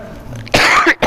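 A single close cough, a rough two-part burst from an adult man during a spoken Islamic lecture, loud and clear against a quiet room with no talk over it.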